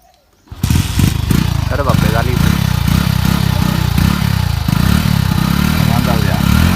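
A motorcycle engine cranks on the starter and catches at about half a second, then runs steadily and loudly close by while people talk over it.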